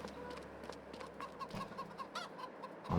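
Chickens in Farming Simulator 22 cluck and chatter in short repeated bursts, fairly faint, with a low steady farm ambience underneath and no talking.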